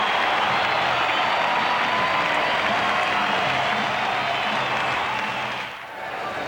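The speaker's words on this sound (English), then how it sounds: "Listen to this crowd." Dense baseball stadium crowd roaring steadily as the Braves win, a broad sustained wash of cheering and applause that stays loud throughout and dips briefly near the end.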